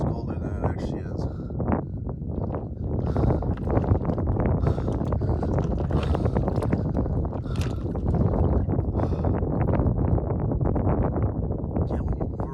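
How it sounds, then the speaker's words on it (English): Strong wind roars continuously through a snowstorm in 25-degree cold, a dense steady rush of buffeting gusts across the microphone for the whole stretch. "it's windy and snowing, so the wind does not help"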